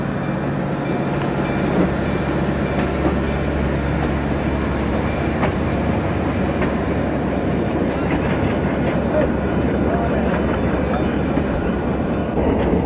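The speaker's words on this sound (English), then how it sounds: "the yard job pulls the train over to the SBC side of the station" A freight train being pulled through the Pacifico Railroad yard in Mexico rumbles steadily, with rolling wheel clatter and scattered metallic clicks and squeaks, and a faint voice now and then.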